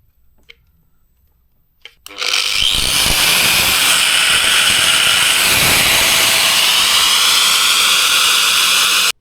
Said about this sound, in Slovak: ako druhé ti ukážem flexku. Vidíš, zapojené to je.